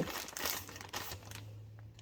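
A plastic bag is cut open with scissors, plastic crinkling and rustling close by, crackling handling noise with a low steady hum beneath, fairly quiet.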